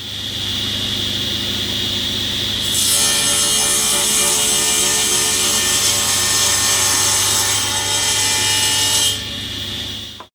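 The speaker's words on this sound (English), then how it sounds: "Back at the table saw, I'm going to run both the edge and the end of the backboard along the fence to create that 45-degree" A table saw cutting a 45-degree chamfer along the edge and end of a wooden backboard for a kid's coat rack, the motor whining steadily and loud, with a harsher rasping bite as the blade runs through the wood for several seconds before spinning down.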